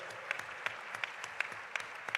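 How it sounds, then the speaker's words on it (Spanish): An audience applauds at a political speaking event, a thin, fairly faint patter of clapping with a few distinct, regularly spaced louder claps near the microphone. "Un aplauso, por favor."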